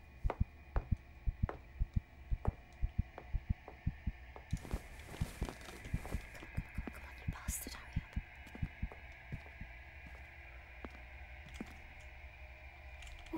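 A heartbeat effect in the Crimson Snow video game: steady, evenly spaced soft thumps over a low hum, with a brief whispery swell partway through.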